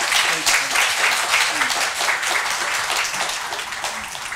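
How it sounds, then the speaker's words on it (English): An audience at a financial services career forum applauds the guest speakers, a full, even round of clapping from many hands that stays steady and fairly close for several seconds. "let's give a round of applause to our guest speakers"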